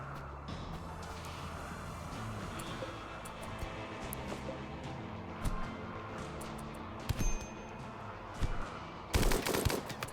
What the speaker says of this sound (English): Did you just shoot? Dude, don't shoot.